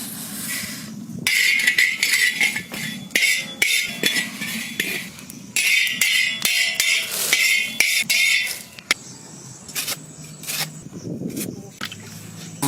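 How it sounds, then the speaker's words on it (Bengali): Roasted coriander and cumin seeds being crushed into powder for a chicken samosa filling, in two long, harsh, gritty bursts of grinding separated by brief pauses, close and loud, with a few lighter clinks and a faint voice near the end. "মশলাটাকে গুঁড়ো করে নেব।"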